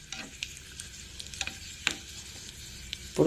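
Red chillies frying in hot oil give a low steady sizzle broken by occasional crisp crackles and pops, close up, with a louder burst at the end.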